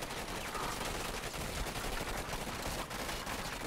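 Gunfire in the video game Command & Conquer 3 Tiberium Wars, a dense, continuous battle din of rapid shots and bursts that holds steady throughout.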